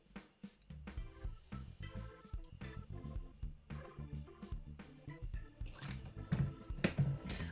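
Tap water poured and dripping into a mixture of tapioca and shaving foam, soft wet squishing and drips close by, faint and irregular, with some splashier sounds near the end.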